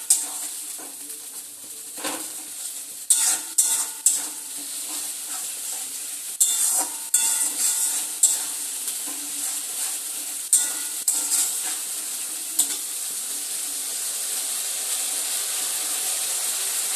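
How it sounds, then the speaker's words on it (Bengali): A ginger, garlic, green chili and cumin paste fries in oil for a crab curry, throwing off a bright continuous sizzle broken by several sharp spatula knocks and scrapes against the pan. "একটু তেলের মধ্যে ভালো করে নাড়াচাড়া করে নেব, যাতে মশলা থেকে কোনো কাঁচা গন্ধ না আসে"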